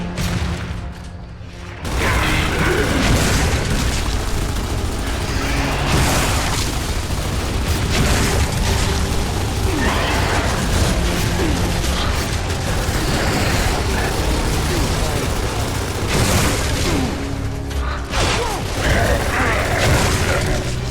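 Loud, dense game explosions and gunfire from Gears of War 3 play almost continuously, with repeated booms and bursts over a constant roar of combat.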